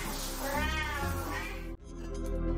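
A Siamese cat lets out a long, loud, wailing meow close by, then a second drawn-out yowl, with no other sound around it.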